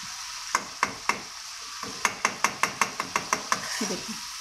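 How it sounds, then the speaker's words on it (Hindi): A spoon crushes tomatoes in a karahi of sizzling chicken, landing about a dozen sharp metallic taps in a quick, fairly even rhythm, close and loud over a steady frying hiss with no speech. "बस टमाटर को आपने चम्मच से क्रश करते जाना है।"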